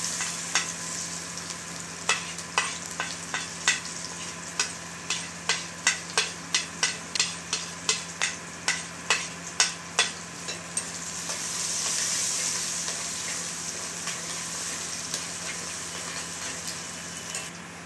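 Hot oil sizzles as cloves and dried red chillies crackle in a run of sharp pops for a tempering, then the popping fades into a steady sizzle.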